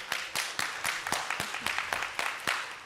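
Scattered hand claps for school board members at a district board meeting, a sparse handful of distinct sharp claps in irregular rhythm, moderately close and fairly quiet, with no talk over them.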